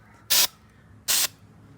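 Two short bursts of aerosol hairspray hiss out onto Christmas pick branches, separated by a brief pause, close to the microphone.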